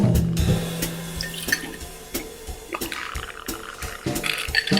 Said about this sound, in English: Let's go ahead and pour that up into our mixing glass